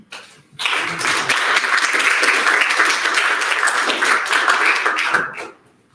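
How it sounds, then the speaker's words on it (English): A church congregation bursts into applause at a Sunday service. The dense, steady clapping swells quickly, holds loud and even for several seconds, then fades away. "Trust me, Nancy deserves the applause."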